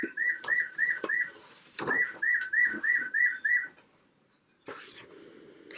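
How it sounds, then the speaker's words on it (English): Bird clock chiming the Tufted Titmouse song: two runs of clear rising whistled notes, each repeated about six times in a quick even rhythm. Light clatter sits underneath, then a brief pause and room noise. "there's my bird clock. It is the Tufted Titmouse o'clock"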